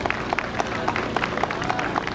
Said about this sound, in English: Come on, put your hands together.